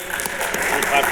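A brief burst of clapping from a small seminar audience at a pinball festival, mixed with voices talking over it.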